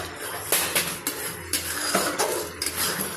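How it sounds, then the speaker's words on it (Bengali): Chicken curry seasoned with Everest chicken masala being stirred in a cooking pot, with close, repeated clinks and scrapes of a utensil against the pot in an irregular rhythm. "এখন চিকেনটাকে নাড়বো ভালো করে"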